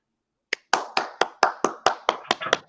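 Hands clap in a steady run of about nine sharp, loud claps after a brief silence, evenly spaced and close by, during an online live stream.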